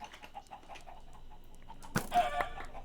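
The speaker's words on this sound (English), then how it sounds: "Come here, chicken." Chicken clucking in the Minecraft video game, a few soft repeated clucks followed by a louder burst of squawking near the end, faint and close.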